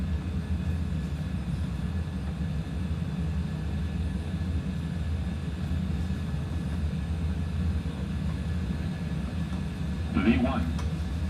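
Airliner engines at takeoff thrust in a flight simulator give a steady, moderate broadband roar and low rumble that hold constant, with a short voice near the end.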